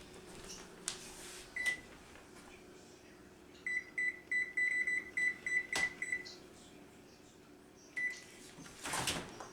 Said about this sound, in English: we're going to go set our oven on to 400.